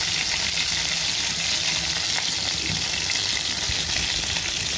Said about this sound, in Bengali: আর দিব হলো স্বাদ মতো লবণ দিয়ে দিলাম, একটু নাড়াচাড়া করে নিই